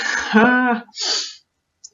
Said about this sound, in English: Oh, I'm about to sneeze, sorry.